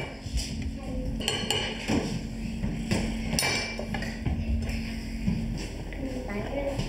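Children lining up to serve mild royal-court tteokbokki onto plates with tongs, producing light clinks and taps of utensils against dishes, steady and close, with voices chattering throughout.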